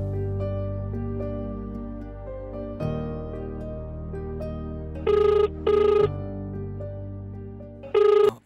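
A telephone rings in three loud, clear bursts, the first two close together and the third after a pause, over a steady music bed with no talk.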